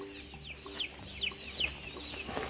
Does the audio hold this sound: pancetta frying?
no